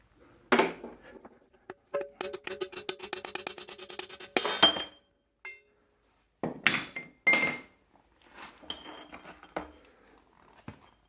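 Hammer blows driving a pinion race out of a Dana 44 axle: sharp metallic clinks, first a rapid rhythmic run of many strikes, then scattered single and paired hits with pauses, close and crisp.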